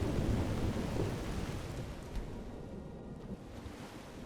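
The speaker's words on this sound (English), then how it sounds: "but it's mostly still rain" Steady rain in Skyrim's game weather, a dense continuous wash of falling water with low rumbling texture throughout, loud and unbroken with no voices.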